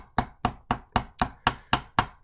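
Sharp metallic hammer blows on a small metal screw end, spreading it into a mushroomed rivet head for a brooch; nine evenly spaced, close, crisp strikes with no talk.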